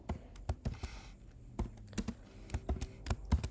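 Rapid bursts of computer keyboard typing, crisp close key clicks in irregular clusters with short pauses, heard alone.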